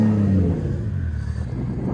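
A BMW 335 car engine runs with a deep rumble, its pitch easing down after a brief rev at the start, steady and close.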